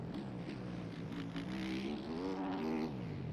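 A Yamaha four-stroke dirt bike engine in a supercross racing video game holds a loud, steady buzzing drone that rises and falls slightly in pitch as the throttle shifts, with no pause throughout.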